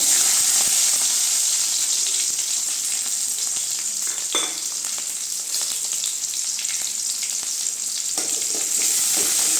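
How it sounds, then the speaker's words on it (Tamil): Onions sautéing in a pan with dried red chillies and curry leaves for a Tamil spinach kadaiyal, giving a loud continuous sizzle with occasional stirring scrapes and no talk. "வெங்காயம் கொஞ்சம் நல்லா வதங்கட்டுங்க"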